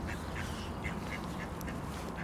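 Ducks on an island being fed barley porridge, giving a string of short, repeated quacks over a steady, rough outdoor background noise.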